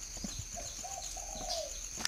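A bird calling at a bird breeding farm, a few soft cooing notes over a steady hiss of background noise, faint and short.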